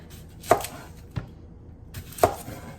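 Three sharp knife strikes chop through an onion on a cutting board, spaced unevenly and heard close with no talking.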